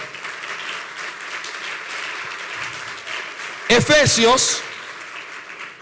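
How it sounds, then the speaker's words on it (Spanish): A church congregation claps for the Lord through most of a sermon gap, a steady broad wash of applause; a preacher's voice breaks in near the end, speaking loudly over it. "Denle un aplauso al Señor."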